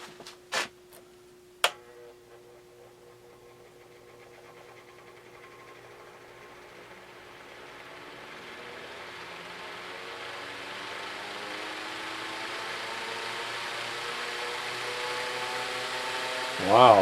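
Kwik Kool evaporative cooler fan running after being reassembled with its stubborn housing refitted, a few sharp clicks at the start, then a steady whirring hum that slowly swells louder over the following seconds.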